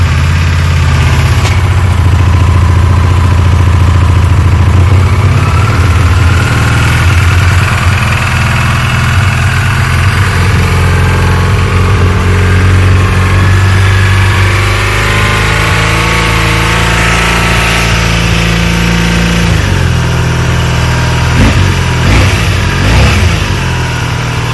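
A 1984 Honda Interceptor motorcycle engine idles while warming up, a loud, close, continuous rumble that holds steady throughout with slight shifts in pitch near the end.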